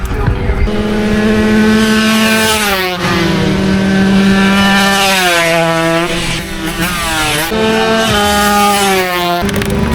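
130cc two-stroke racing motorcycles in qualifying at a circuit, close and loud, with high revving engines that rise and fall through gear changes as several bikes pass in succession, keeping up a continuous buzzing whine.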